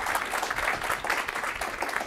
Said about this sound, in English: give a big round of applause really loud for the groups,